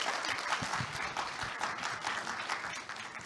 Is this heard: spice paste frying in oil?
no